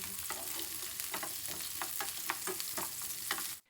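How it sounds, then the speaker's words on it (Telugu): Sliced onions sizzle in hot oil in a pan for a dhaba-style egg masala, a steady loud frying hiss broken by repeated scraping stirs of a spoon, close up. "ఆయిల్ వేడిన తర్వాత ఈ విధంగా కట్ చేసుకున్న ఆనియన్స్ వేసుకుందాము"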